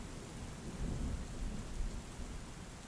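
Steady rain pours over a deep, rolling thunder rumble in a thunderstorm, continuous and fairly loud throughout, with no voices.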